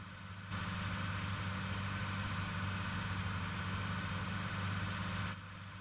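Modified John Deere 7R-style tractor engine sound in a farming simulator game, a steady loud diesel idle drone with low rumble that cuts in abruptly and runs evenly for about five seconds before stopping, with no talk.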